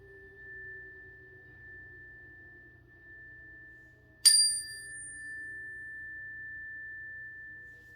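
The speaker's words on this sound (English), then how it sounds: "it's a frequency chime and it does a lot of things." A frequency chime struck once midway, a clear bright ring with a sustained high tone that decays slowly over a quiet steady hum.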